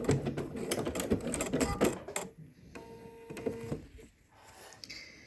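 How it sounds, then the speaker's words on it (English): A sewing machine stitches swimsuit fabric and back stitches to a notch, a fast rattling run of needle strokes up close, then a pause and a short second burst of stitching before going quiet. "So we're just going to sew to that notch. I'm going to back stitch."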